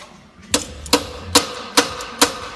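A hammer strikes an exhaust system part under a vehicle with rusted bolts, five sharp metallic blows landing at an even pace, close and loud against a quiet background.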